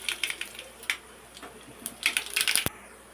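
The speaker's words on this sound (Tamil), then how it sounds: "கொஞ்சமாக கடுகு போட்டுக்கலாம்." Scattered sharp pops and crackles, irregular and close, of mustard seeds spluttering in hot oil, with no talking.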